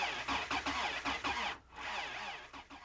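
A car engine cranks in frigid, well-below-normal winter cold, with a fast rhythmic chugging of the starter that pauses briefly, then resumes in another steady, struggling run of pulses, loud and close.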